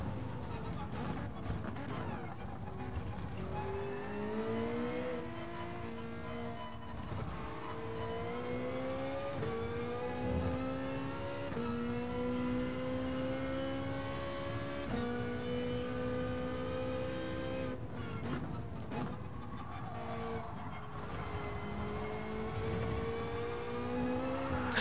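McLaren F1 race car lapping in the racing game Gran Turismo Sport, a continuous engine whine climbing through gears then dropping repeatedly as it brakes for corners, steady and close throughout.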